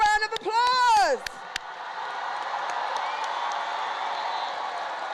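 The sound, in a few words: applause for graduates at a high school commencement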